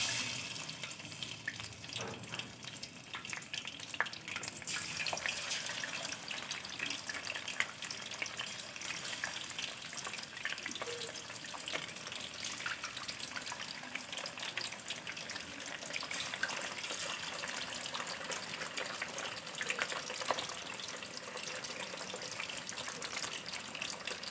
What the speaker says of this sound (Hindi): अब मैं एक एक पीस डाल के इसके अंदर फ्राई करूंगी